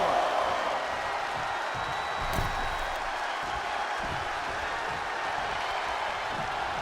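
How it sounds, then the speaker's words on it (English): A wrestling arena crowd in the WWE 2K22 video game, during an NXT 2.0 match, cheers and roars in a steady, dense wash that stays at constant volume, with faint scattered claps. "The sound of this crowd is deafening, and he's asking for more."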